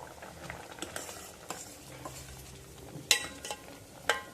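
Toor dal for a chukkakura pappu simmering in a pot, giving soft, low bubbling with light stirring scrapes and a couple of sharp utensil clinks, all fairly quiet with no talking.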